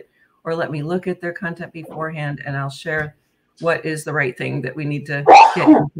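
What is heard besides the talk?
sneeze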